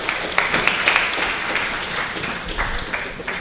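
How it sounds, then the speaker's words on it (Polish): An audience at the Now! Go Online event applauds as a speaker comes on stage, giving a moderate wash of clapping with a few sharper, nearer claps standing out. "Brawa!"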